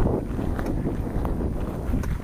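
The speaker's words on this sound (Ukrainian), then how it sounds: "Так, вітер дує." Steady wind blowing hard across the microphone, a continuous low rumbling roar with gusty surges throughout.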